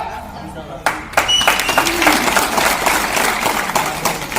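A crowd applauds at a political rally where young people are joining the Vanchit Bahujan Aghadi party. The dense clapping starts abruptly about a second in and keeps up steadily, with a voice talking over it.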